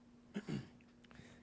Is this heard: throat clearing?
yes